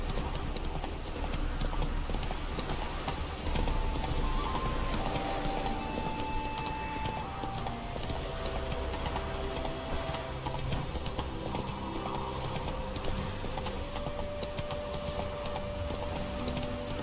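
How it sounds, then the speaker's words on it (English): A horse's hooves clip-clop at a steady trot while riding in The Witcher 3, heard close and continuous under game music and ambience. "Come on, Roach"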